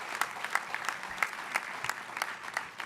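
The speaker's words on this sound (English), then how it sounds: "Let's give them a round of applause." An audience at a policy celebration applauds the speakers, with individual hand claps standing out crisply in a moderate round of clapping that carries on for a few seconds.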